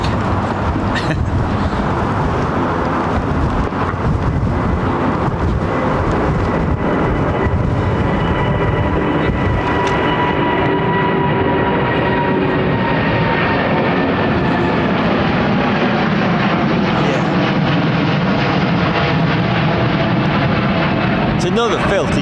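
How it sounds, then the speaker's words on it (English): A Boeing 787 Dreamliner departs overhead at Heathrow, a loud, close engine roar with a rising whine that fills the whole stretch and slowly eases as it passes. "Another filthy, dirty Dreamliner there."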